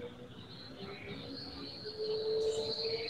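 Crickets chirp outdoors in a thin, continuous high trill, faint and steady in the background, with soft ambient noise and a brief higher chirp layered in near the end.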